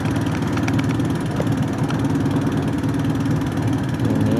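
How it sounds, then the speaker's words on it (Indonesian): Motorboat engine pushing a rafting boat across a lake, a steady droning hum that holds at the same loud level throughout, with no talking. "Kita ini didorong sama perahu yang pakai mesin ya"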